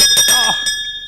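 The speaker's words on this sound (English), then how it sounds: "Can you actually give us the sound of your bell" A hand bell rings out in a few quick, bright strokes that leave a sustained metallic ring, loud and close, with a brief voice over the ringing.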